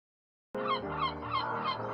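Razorbills call from beneath a jumble of rocks at a North Atlantic nesting site, a sudden burst of harsh, repeated croaking grunts close by after silence.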